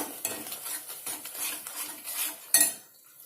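Ginger chicken gravy being stirred in a pan: a run of close metal spoon scrapes and clinks against the pan with a faint sizzle beneath, ending in one sharper knock, no talking.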